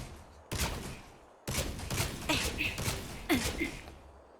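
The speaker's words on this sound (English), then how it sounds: "Oh, she's firing at us." Enemy gunfire in Honkai: Star Rail: a few loud bursts of shots and impacts, close and separated by short gaps, with voices briefly present.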